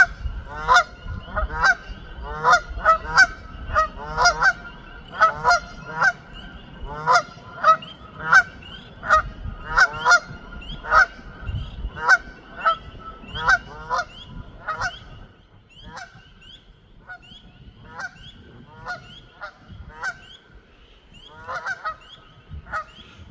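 Geese at a pond at Delaware Water Gap honk in repeated loud, rhythmic bursts, dense at first and then thinning to scattered calls, heard close and with no talking.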